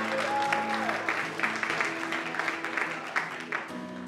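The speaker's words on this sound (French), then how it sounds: "Nos prochains participants, on les applaudit, Cégep de Trois-Rivières." Audience applause for the Cégep de Trois-Rivières team at a student science competition, steady clapping filling the room over a sustained musical tone, with a few louder claps standing out.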